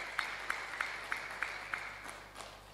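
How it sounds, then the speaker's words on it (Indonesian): Sparse hands clap at a public discussion by Bank Indonesia in Majalengka, a faint, steady series of about eight evenly spaced claps that fade slightly toward the end. "Saya tepuk tangan untuk 2 narasumber yang luar biasa kita."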